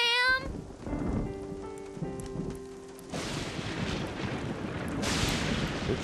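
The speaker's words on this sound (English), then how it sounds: "It's raining cats and dogs." Heavy rain pours during a storm, a dense hiss of falling water that starts after some tonal cartoon sounds and swells louder toward the end, with a low rumbling undertone.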